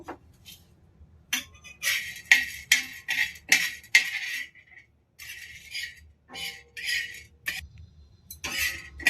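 A spoon stirs chana dal roasting in a pan for rasam powder, making a series of close, rattling scrapes in short irregular bursts with brief quiet gaps between strokes.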